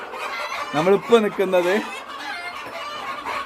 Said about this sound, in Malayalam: കോഴി, നല്ല നാടൻ കോഴി, നമ്മളെ നാട്ടിൽ കിട്ടുന്ന നാടൻ കോഴി ഫാം.